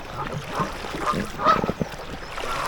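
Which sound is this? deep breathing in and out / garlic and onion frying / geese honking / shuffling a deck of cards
geese honking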